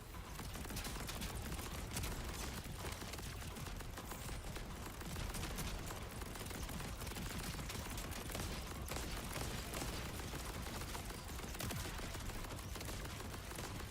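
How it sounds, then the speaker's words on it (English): Sniper rifle with a missile launcher firing in Borderlands, a steady, dense stream of gunfire and blasts that stays loud for the whole stretch without pause. "the missile launcher from the sniper rifle is actually pretty good"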